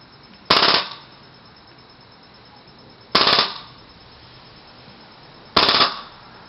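An airsoft G4 with a Polar Star Fusion Engine fires three sharp, loud single shots, evenly spaced about two and a half seconds apart, with near silence between them.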